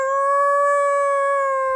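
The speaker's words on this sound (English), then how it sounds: "shouting to be heard over Dexter howling" A howl attributed to an undead zombie dog holds one steady, sustained, loud tone for nearly two seconds, clear and alone with no other sounds around it.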